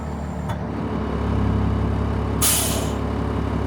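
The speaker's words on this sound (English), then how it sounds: "I hope you could hear that pop-off valve" Pop-off valve on a 2003 S&S M1078 truck with a central tire inflation system, a brief bright hiss of released air over the steady low rumble of the idling diesel engine during a cold start.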